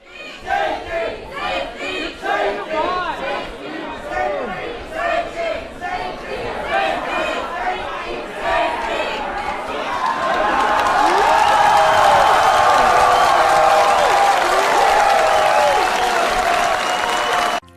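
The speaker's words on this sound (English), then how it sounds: "This brought on a huge roar from the crowd" A lecture audience gives rhythmic bursts of chanting and clapping, then swells into a loud, sustained roar of cheering and shouting that fills the room.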